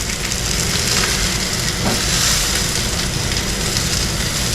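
Steak sizzles and fries in a hot pan, giving a loud, continuous crackling hiss with no pauses, close by and with no talking.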